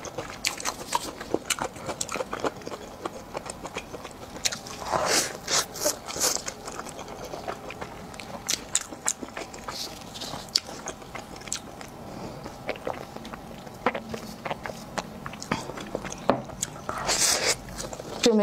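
Close, crisp biting and chewing of spicy chicken with dried mustard greens, repeated crunchy and squishy mouth sounds in an irregular rhythm, with a voice talking softly at times.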